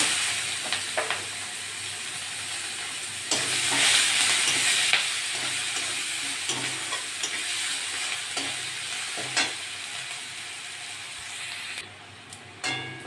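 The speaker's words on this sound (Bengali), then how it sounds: "পেঁয়াজটা একটু ভাজা ভাজা হয়ে গেছে" Onions sizzle steadily in a hot pan, a constant frying hiss broken by occasional stirring scrapes and clinks.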